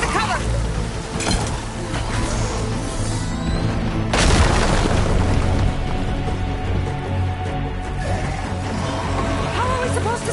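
A hostile machine in Horizon Forbidden West fires at the players, setting off one heavy, booming explosion midway through a loud, dense wash of rumbling game sound.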